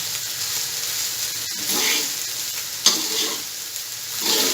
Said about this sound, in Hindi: बस थोड़ा सा हम स्टिर करेंगे